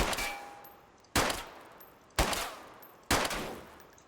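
Four loud gunshots ring out in DayZ Standalone, each a sharp broadband crack with a decaying tail, spaced about a second apart with no talk.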